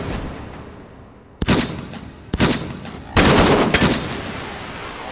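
Shotgun firing buckshot in the VR shooter game H3VR, four sharp loud blasts at uneven intervals, each followed by a brief decaying tail.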